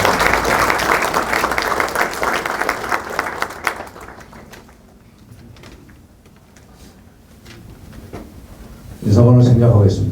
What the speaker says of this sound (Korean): 여러분 많은 박수로, 큰 박수로 환영해주십니다